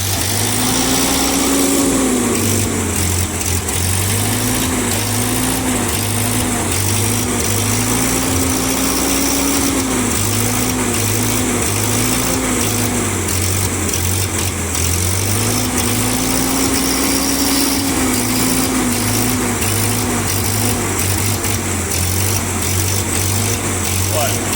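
A small engine in an older vehicle runs loudly and close, its idle note rising and falling in repeated cycles as it revs, with voices talking over it.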